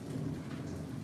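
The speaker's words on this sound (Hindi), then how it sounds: "आपकी तो बारिश हो रही है?" Steady heavy rain falls with rolling thunder underneath, a dense continuous wash of rainfall with low rumbling, heard alone without voices.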